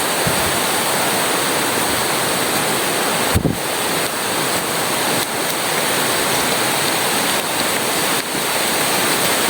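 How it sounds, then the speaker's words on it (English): Hillside stream in hilly forest running downhill from a water catchment, a steady broadband rush of flowing water filling the whole clip, with a brief knock partway through. "Another stream here flowing downhill."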